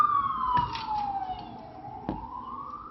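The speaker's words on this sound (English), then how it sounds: "Here's siren." A siren wails nearby in a steady, sliding tone, broken by a couple of sharp knocks, with no talking.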